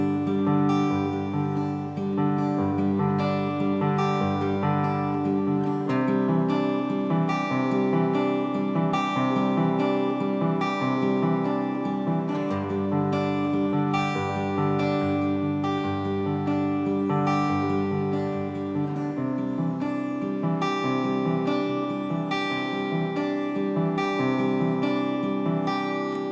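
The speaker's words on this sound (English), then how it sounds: "Verse is very similar to the intro, but there are going to be a couple little variations at different times on the finger pattern" An acoustic guitar plays a steady finger-picked pattern from a song, with repeated arpeggiated chords and a thumb-driven bass moving through the changes, clear and close with no voice over it.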